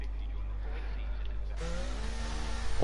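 A Ferrari Formula 1 car heads out onto the track in the F1 23 racing game at the Spanish Grand Prix, a steady engine drone rising into a higher revving whine as it pulls away, with voices talking over it.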